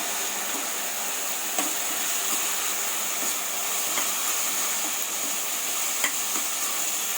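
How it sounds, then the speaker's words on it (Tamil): Chopped onion and capsicum fry in a pan with a steady, even sizzle and hiss, broken by occasional faint clicks of stirring, and no voices. "இப்போ இந்த ஆனியனும் கேப்சிகம் ரெண்டும் நல்லா ஃப்ரை ஆகிடுச்சு"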